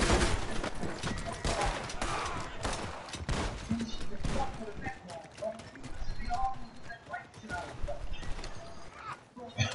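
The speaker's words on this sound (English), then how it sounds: "the town is shooting out" Gunfire crackles through a town shootout in Red Dead Redemption, mixed with horse hooves clip-clopping and a busy game soundscape, with people talking over it.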